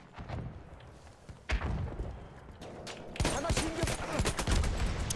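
Gunfire in Battlefield 1, including shots from a Martini-Henry-style Mars rifle: several sharp, loud reports spaced a second or two apart, followed by denser bursts of battle noise and impacts.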